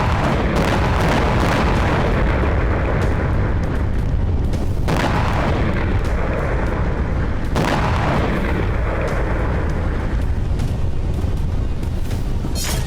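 Bombing in Maroun al-Ras and Ayta ash-Shab, southern Lebanon: loud, continuous rumbling blasts with several sharp booms standing out, including strong hits near five and seven and a half seconds, no voices.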